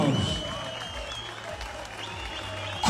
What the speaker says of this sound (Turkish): başkan yardımcımız alkışlar Emin Canlı için geliyor